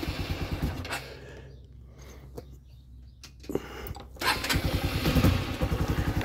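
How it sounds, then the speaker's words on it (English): A cold carbureted motorcycle engine cranks and sputters to life, briefly falters and quiets, then catches and settles into a loping, uneven idle close by. "This is a carbureted bike."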